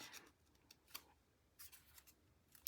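Scissors fussy-cutting paper pieces for a hedgehog-themed scrapbook layout, heard as a few faint, scattered snips and rustles spread across a quiet stretch with no talking.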